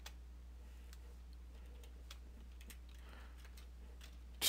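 Code being typed on a computer keyboard, a quiet, fairly close run of light key taps at an uneven rhythm, ending in a louder knock.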